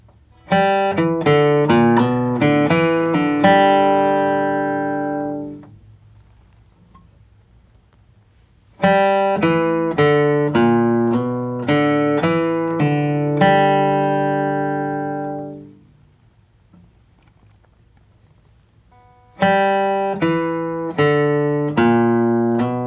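Quick runs of single plucked bluegrass guitar notes, a G run, in bursts of eighth notes, each phrase ending on a ringing note that decays, repeated three times with brief pauses.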